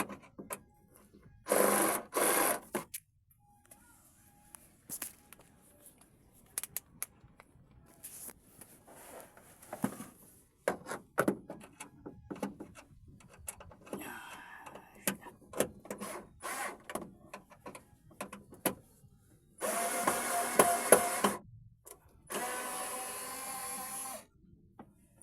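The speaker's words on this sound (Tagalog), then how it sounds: "Okay, so unscrew natin." A screw is worked loose on a Kia Picanto boot with a broken trunk release, giving quiet scattered scraping and rubbing bursts with a few louder rasping stretches and near-silence between them.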